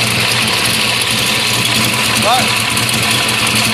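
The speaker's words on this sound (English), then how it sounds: "You can actually hear the engine pick up a little bit there." A car engine idles loudly and steadily while its ignition timing is set, a close, constant rumble with a slight rise in pitch partway through, as someone speaks over it.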